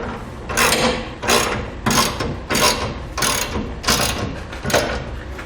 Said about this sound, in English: For the nuts, we're going to use a 3/4 inch socket.